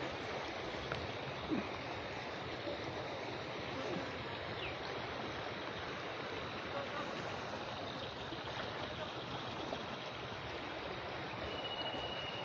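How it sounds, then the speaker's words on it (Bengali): Floodwater from a nearby river rushes over the Salutikar road near Goainghat, Sylhet, flowing continuously in a broad, steady roar, loud and unbroken, with no voices. "সেই সড়কের উপর দিয়েই প্রবাহিত হচ্ছে পানি"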